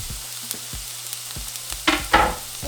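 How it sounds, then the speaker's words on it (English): Onions and jalapeños go into hot oil with a low background hum and faint ticks, then a couple of brief loud sizzling bursts near the end as the vegetables hit the pan. "once our oil is hot, we're going to add our onions and jalapeños"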